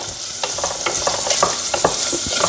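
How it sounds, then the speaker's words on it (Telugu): Onions frying in a pan for a tomato bath, a steady loud sizzle with scattered crackles and stirring scrapes throughout, close up, with no voices. "ఆనియన్స్ ఇప్పుడు మంచి ఫ్రై అవ్వాలి"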